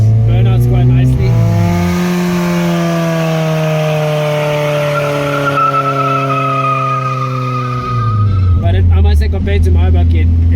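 A loud modified Nissan 1400 with an A14 engine drones and rises in pitch through a long pull, heard from inside, with brief talk at the start and end.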